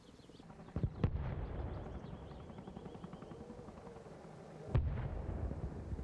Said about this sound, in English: the enemy are actually mortaring Wisconsin